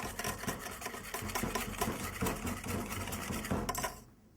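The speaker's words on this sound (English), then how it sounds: "So while I'm whisking, I'm just going to add a little bit at a time." Eggs are whisked briskly in a bowl while being tempered for custard ice cream, a fast, steady scraping and rattling rhythm close up that stops abruptly near the end; no voices.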